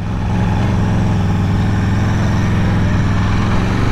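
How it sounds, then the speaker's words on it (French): An Aprilia Tuono V4 motorcycle engine drones loud and close, a steady sustained growl holding throughout without pauses. "Ces accélérations sont quand même complètement folles."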